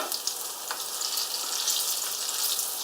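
Pork balls frying in hot oil, a steady close sizzle with fine crackling that holds level throughout, with no talking.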